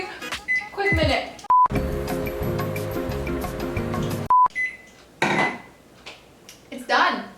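A kitchen microwave oven hums steadily for a few seconds between short electronic beeps at start and finish, with clattering dishes and voices around it while slime ingredients are prepared.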